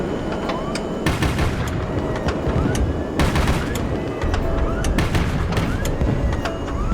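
Aircraft gun fire in the video game HighFleet comes as repeated sharp bursts of shots with booming impacts, loud and close, over a noisy battle background.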